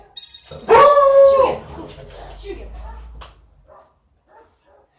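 A pet dog barks and howls loudly for about a second, then whimpers and yips more softly, while someone talks over and after it during a Brawl Stars gaming session.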